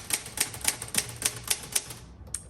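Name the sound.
1960s Olivetti-Underwood Studio 44 typewriter typing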